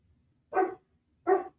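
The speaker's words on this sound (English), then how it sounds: "I hear the barking dog." A dog barks twice, about a second apart, each bark short and clear against otherwise quiet surroundings.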